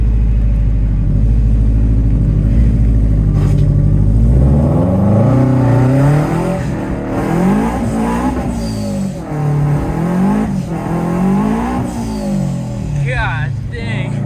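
A 2020 Subaru WRX Stage 2 drives in heavy rain, its engine droning low then revving up and down through several loud pulls, with voices talking over the engine.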